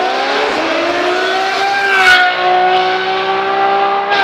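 A short-stroke, oversquare car engine revs hard and high, its pitch climbing and holding in a loud, close, continuous roar.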